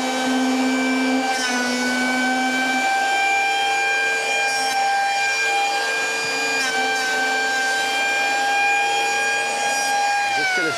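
Wolf 900W three-blade electric rebate planer planing wood with dust extraction fitted, a loud steady high-pitched motor whine with cutter-block harmonics running throughout, shifting slightly in pitch as it bites the workpiece.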